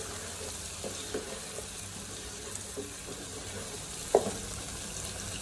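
Chicken with tomato and green capsicum frying in a pan, a steady low sizzle throughout with a sharp clink from stirring near the end, no voices.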